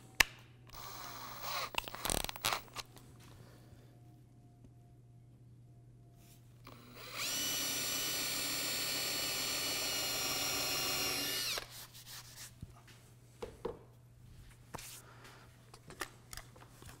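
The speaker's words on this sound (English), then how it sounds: "I'm going to drill a pilot hole for my" A power drill bores a pilot hole in wood in one steady, continuous four-second burst amid quiet workshop handling noises before and after.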